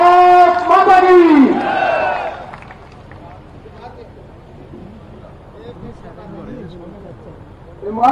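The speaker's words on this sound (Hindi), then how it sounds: "जोरदार तालियों से स्वागत करें" Crowd at a political rally in a Samalkha sports stadium gives a loud, unified shouted cheer in welcome lasting about two seconds, then settles into a quieter murmur of voices and scattered noise.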